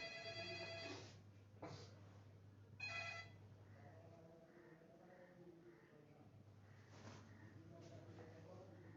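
Phone ringing with an incoming call, a quiet electronic tone repeating in short bursts over a low steady hum, with faint voice-like sounds in the background.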